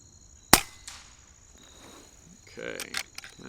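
An FX Dreamline air rifle fires JSB 18 grain pellets at 50 yards: a single sharp crack near the start, then quiet room tone with faint background noise and a soft voice toward the end.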